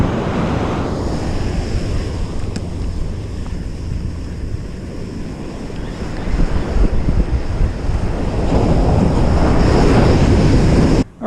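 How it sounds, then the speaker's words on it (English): High surf breaks on a shoreline in a steady, loud roar of churning waves mixed with heavy wind buffeting the microphone, building in intensity toward the end. "The surf's kind of high here though"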